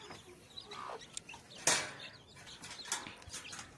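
Rooster and hens clucking and rustling inside a coop, scattered short calls and wing flaps at moderate distance over a busy background.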